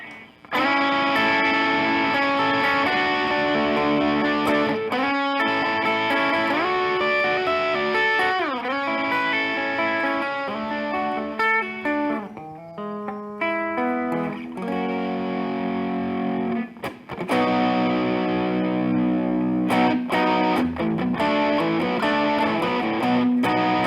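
An electric guitar plays chords and riffs through a T-Rex drive pedal with the clean tone blended in, giving a warm, saturated, sustained sound with brief pauses and string attacks, alone without speech.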